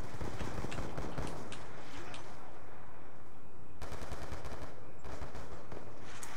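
Automatic gunfire rattles through a Call of Duty: Black Ops II team deathmatch, with bursts of rapid shots at the start and again near the end, moderately loud over a busy game soundscape.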